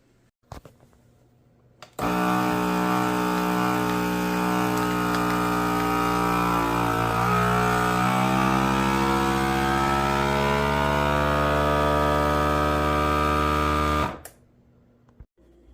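A vacuum sealer sealing bags of homemade black pudding: a steady motorized hum starts abruptly, runs evenly for about twelve seconds with a slight pitch shift, then cuts off, close and fairly loud.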